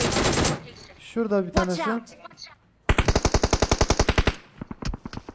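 Gunfire in PUBG Mobile: a rapid automatic burst of evenly spaced shots following a single sharp crack, with a person speaking briefly in between and single shots trailing off at the end.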